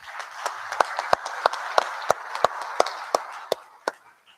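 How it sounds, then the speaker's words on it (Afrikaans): Congregation clapping hands in a church, a dense wash of many palms with a few sharper individual claps standing out, steady and fairly close, fading out near the end. "Kom ons klap lekker hande vir haar."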